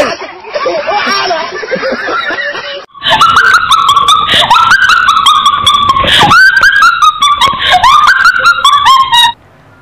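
Puppies whimper, yip and bark in quick repeated high-pitched bursts, close and loud, after a short stretch of mixed background noise.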